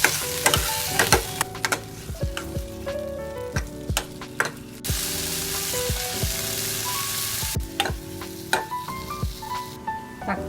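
Drumsticks, okra and tomato fry in hot oil for Kerala sambar, loud crackling sizzle punctuated by repeated sharp clanks and scrapes of a ladle stirring, with a brief louder hiss midway.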